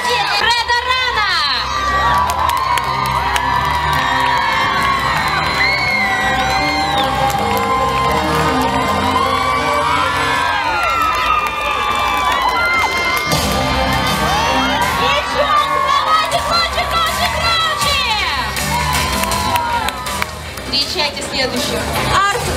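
Audience at an outdoor cosplay show during the Odessa Humorina festival cheers, shouts and whoops loudly, children's voices prominent, a continuous roaring crowd with bursts of yells throughout.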